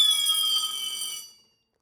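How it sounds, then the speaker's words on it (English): A Hikvision conventional fire alarm system sounds from a smoke detector as a shrill, steady electronic tone, loud and close, cutting off after about a second and a quarter. "The smoke alarm was still triggering because it's still detecting smoke within the photoelectric sensor"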